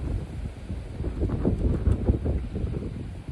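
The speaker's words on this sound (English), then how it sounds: "These winds just keep getting crazier and crazier." Strong outdoor wind gusts of 35 to 45 miles an hour roar and buffet steadily, swelling and easing in loud rumbling surges with no talk.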